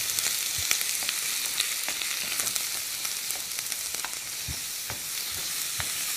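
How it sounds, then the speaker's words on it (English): Meat for a stir fry sizzling in a hot skillet: a steady, moderately loud crackling hiss with scattered sharp pops, heard alone without talk. "Nice sizzle."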